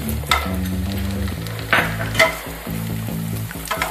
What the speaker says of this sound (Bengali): গাওয়া ঘি দিয়ে ভেজে নিতেও পারেন